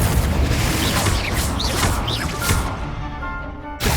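The Confringo blasting spell goes off in the video game Hogwarts Legacy, a loud, dense crashing burst that rumbles on with whooshing magical sweeps before cutting off sharply.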